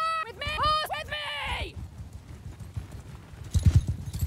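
Cavalry horses galloping in the Mount & Blade II: Bannerlord video game, rapid hoofbeats thudding throughout, with a shouted voice and whinnying cries early on.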